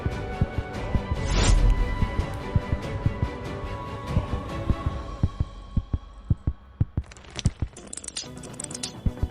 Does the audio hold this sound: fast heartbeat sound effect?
yes